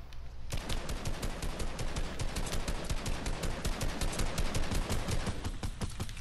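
Rapid automatic gunfire from a video game rattles loud and continuous in dense bursts for several seconds, with no talk over it.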